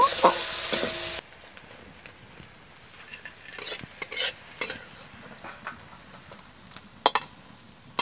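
Garam masala powder and ghee being stirred into a cooking dish, a soft sizzle under scattered scraping stir strokes of a spoon against the pan, with a few sharper clinks near the end.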